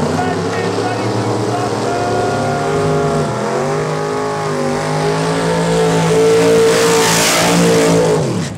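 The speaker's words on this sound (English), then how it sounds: "You've got two big block nitrous racing machines getting ready to" Two big-block nitrous drag racing cars rev loudly and continuously at a drag strip, with engine pitch rising and falling as they stage. The sound is near and dominant throughout, with a crowd and announcer faintly underneath.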